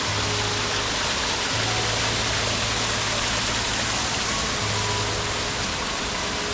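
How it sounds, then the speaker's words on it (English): Small waterfall at Rock Island State Park pouring in a steady, broad rushing hiss, close and continuous with no break. "Even the small waterfalls are awesome."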